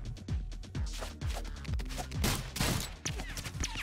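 Rapid volleys of bullets fire in the chaotic game ROUNDS, a dense stream of sharp, punchy shots with descending pitched zips and impacts, loud and close, the firing fast and irregular with no speech.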